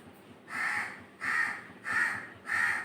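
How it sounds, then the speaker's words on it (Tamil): A crow caws four times in a slow, even rhythm, each call harsh and fairly close, with faint background noise between them. "காக்காய் உங்களை அழைக்கிறது."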